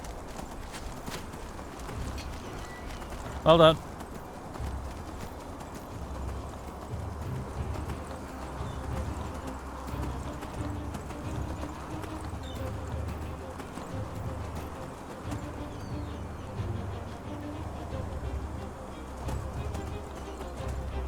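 A donkey mount in the role-playing game Enderal trots along with a steady, faint clip-clop of hooves and ambient outdoor sound. A single sharp tone rings out briefly, and a voice speaks a few words near the start.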